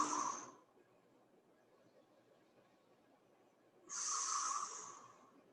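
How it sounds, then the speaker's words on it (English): Two close, airy breaths during a seated neck mobility stretch for neck pain, head relaxed down. A short exhale fades out, then a quiet gap of about three seconds, then a longer, fuller breath. No talking. "starting that deep breathing"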